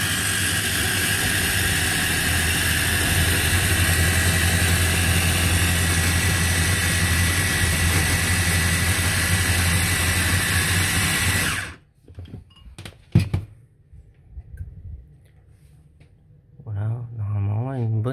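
A Silvercrest multifunction food chopper whirs loudly and steadily as it chops ham, potatoes, carrots and courgettes, a dense motor drone that cuts off abruptly near the end, after which there are a few clunks and a brief restart.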